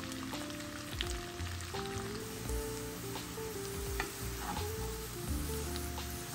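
Venison sausage and potato breakfast hash sizzles and crackles steadily in a hot pan, a dense continuous frying hiss with occasional stirring scrapes, close and with no talk.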